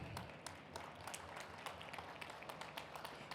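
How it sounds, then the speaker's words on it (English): Scattered audience clapping at a developer conference session, a steady patter of hands rising and falling without a strong peak, fairly distant and moderate in level. "can we have a big round of applause?"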